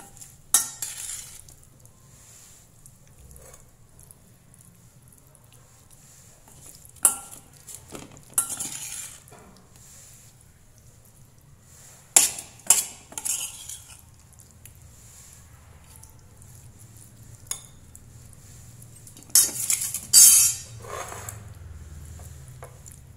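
Utensils clink and scrape against a plate while tofu and vegetable salad is served, with scattered sharp clinks and short bursts of handling separated by quiet stretches.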